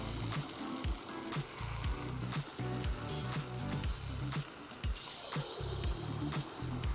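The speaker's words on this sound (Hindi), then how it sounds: "तो अब ये आलू हम इसमें तेल में डालना शुरू करते हैं। तेल का टेम्परेचर देखिए मीडियम है," Battered potato pieces frying in medium-hot oil, a steady sizzling bubble with repeated low thuds and clatters of pieces being dropped in or stirred, close and fairly even throughout.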